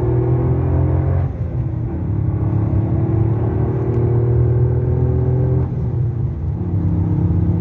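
A Toyota GR Yaris with a 1.6-litre turbo engine pulls hard out of a corner on a track, its in-car engine note droning and climbing steadily through the gears with a brief shift dip, no talk.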